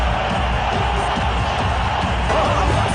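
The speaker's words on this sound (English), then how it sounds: "This crowd is getting very vocal." A cricket stadium crowd at a T20 match between India and Australia roars in a loud, steady wash of cheering and whooping after a boundary, continuous and broad with no clear individual voices.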